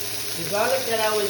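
Carrots, garlic and other vegetables sautéing in oil in a pot, a soft steady crackle with a voice faintly audible over it.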